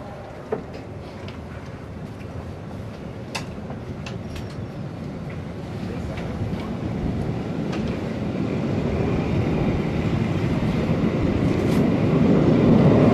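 A steady rumble of a Swiss Albula line sledding train departing Bergün for Preda in snowy winter builds gradually louder, with occasional clanks and squeals, no voices.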